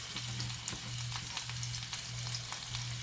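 Ham from a 1947 BBQ ham recipe browns in a frying pan with a steady, close sizzle and scattered soft crackles, over a faint low hum and with no voices.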